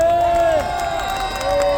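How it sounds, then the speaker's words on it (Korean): Crowd at an outdoor political street rally at Nampo-dong in Busan cheering and clapping, with a loud sustained raised voice over a murmur of the gathered people. "여러분 찬성하면 박수 한번 치십시오."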